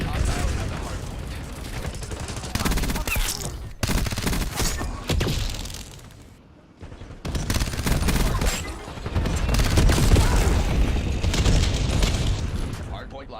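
Call of Duty match gunfire: dense bursts of rapid shots and automatic fire, loud and sustained, broken by brief pauses, with game announcer voices and talk mixed in.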